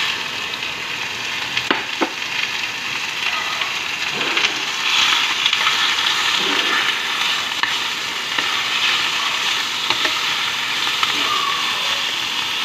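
Chicken cooks in butter in a pan, giving a steady close sizzle with occasional stirring clinks and scrapes, continuous throughout with no talking over it.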